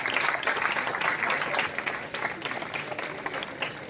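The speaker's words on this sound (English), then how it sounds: "give a good round of applause" An audience at a college tech event in an engineering college hall applauds, a dense, sustained round of clapping from a large crowd that stays loud throughout and eases slightly toward the end.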